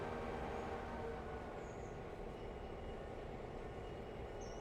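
Freight train rumbling steadily in the Railroader video game, a low continuous rolling drone with faint high squeaks, quiet and unbroken throughout.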